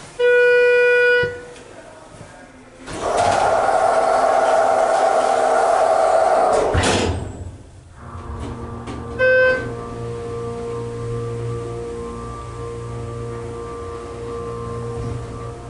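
A Schindler HT hydraulic elevator in a sporting goods store gives out a few beeping chimes. A loud motor hum and whine runs for several seconds, then fades into a lower steady drone with another brief chime.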